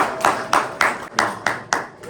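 A church congregation claps in unison, seven or eight sharp, evenly spaced claps ringing through a hall, with no talk over them.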